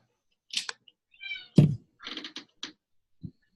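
A voice imitates a cat with a few short, scattered meow-like calls, mixed with light clicks and a soft thump in a quiet room.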